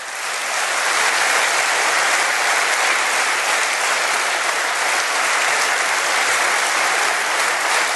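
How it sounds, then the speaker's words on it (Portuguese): Loud, dense applause from a large crowd at a Portuguese political candidacy presentation, a sustained even roar of clapping with no talk over it. "peço-vos a todos uma enorme salva de palmas"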